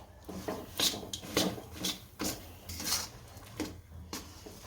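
Jaggery being stirred with roasted chana dal in a pan for chikki: irregular scraping and clinking of a spoon against the metal pan, a series of close rasping strokes with short pauses, no talk.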